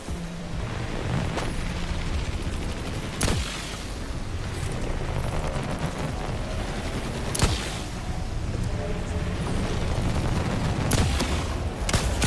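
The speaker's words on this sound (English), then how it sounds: "I think I should try with the electric rifle and try to shoot down that shark." An electric rifle fires at a shark in The Last Caretaker, with sharp cracking shots at irregular intervals cutting through a dense, constant roar of water and rumbling noise.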